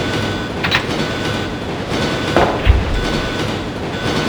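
A train runs with a rumbling, rattling wagon roar and faint clacks of wheels, loud and continuous, in the survival horror video game Resident Evil 2.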